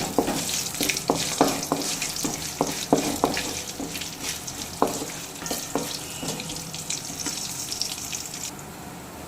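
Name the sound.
stirring asafoetida in hot oil in a pan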